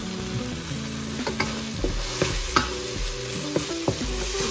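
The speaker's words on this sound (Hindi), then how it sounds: "अच्छे से भुनाई करनी है कि इसका ऑयल ऊपर आ जाए।" Eggs and tomatoes fry in oil in a pan, giving a steady close sizzle broken by repeated spatula scrapes and taps as the mixture is stirred.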